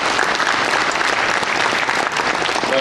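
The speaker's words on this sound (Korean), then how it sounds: "박수 쳐주십시오." Audience applause at a book show event, a loud, full, continuous roar of many people clapping together, steady and dense from start to finish.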